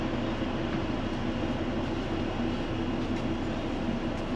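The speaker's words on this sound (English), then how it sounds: "Isn't that a cute little train?" A small one-car train in rural Japan rolls along with a steady, dense rumble of wheels and motor heard from inside or close by, broadband and unbroken with no voices.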